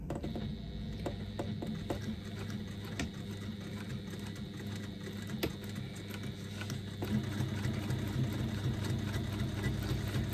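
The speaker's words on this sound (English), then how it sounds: "So I'm just going to stitch through that." A sewing machine stitches through foam stabiliser used for bag making, giving a steady mechanical whir with faint rhythmic needle clatter throughout, close and fairly quiet, with no talking.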